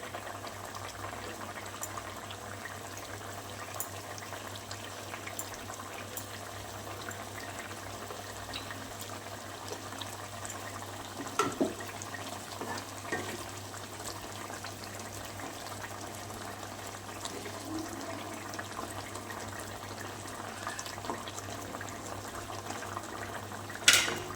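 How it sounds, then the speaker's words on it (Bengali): Papaya kofta curry simmering in a pot, a faint, steady bubbling that continues throughout, with a few small clinks and a soft knock near the end. "তরকারি ফুটতে থাকলে কোপ্তাগুলো একে একে সব দিয়ে দেবো।"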